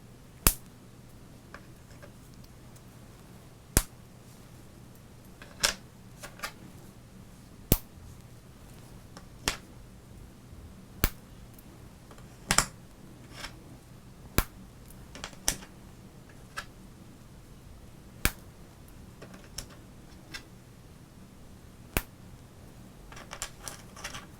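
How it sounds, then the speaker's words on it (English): Stiff old gum from a 1987 Topps baseball card pack is snapped into pieces, giving a series of sharp, isolated cracks spaced a second or two apart over a quiet background. "As always, we don't eat the gum, we break it."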